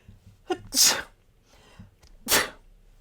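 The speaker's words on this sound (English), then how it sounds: "I'm gonna sneeze, guys." A sneeze close up: a short sharp inhale-burst, a pause with faint breathing, then a second loud sneeze.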